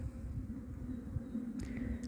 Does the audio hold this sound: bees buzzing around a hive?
yes